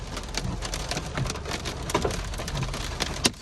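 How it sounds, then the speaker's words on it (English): Large hail hammers a car on the road in a dense, steady clatter of hard impacts, with a few louder sharp cracks standing out against the constant roar of driving. "Huge hail."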